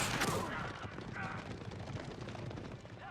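A springald emplacement fires in an Age of Empires 4 battle: a sharp burst opens, then a steady clatter of battle noise continues, moderately loud.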